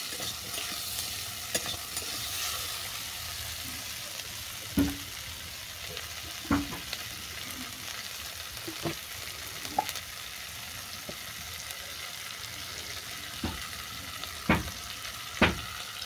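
Spices frying with water spinach stems and slit green chilies in a pan for a vegetarian chorchori, a steady sizzle broken by a series of sharp spatula scrapes and taps, with no talking.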